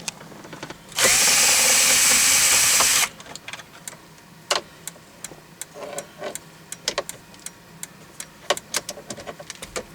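A power drill removes 7mm bolts from a car dashboard panel, a loud steady burst of about two seconds followed by a series of short clicks and taps from working on the panel.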